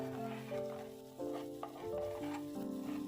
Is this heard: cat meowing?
no